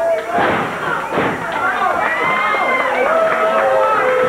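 Wrestler body slam in the ring at a CWA Memphis wrestling event, a couple of heavy thuds amid a loud crowd shouting and cheering, with a commentator talking over it.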